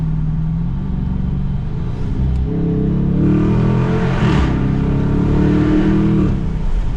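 A 2021 Dodge Challenger R/T engine revs loudly and steadily in a tunnel, rising and falling in a booming, echoing space with a deep rumble throughout.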